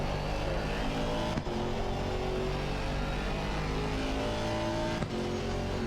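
Aston Martin Vantage GT4 race car in an Assetto Corsa Competizione daily race at Barcelona, its engine droning steadily and loudly at high revs with two brief dips for upshifts, the harmonics climbing between gear changes.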